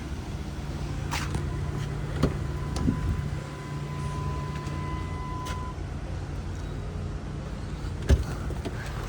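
Interior of an L322 Range Rover on a drive around the block, a steady low road and engine rumble with a few brief knocks and clunks, no talk.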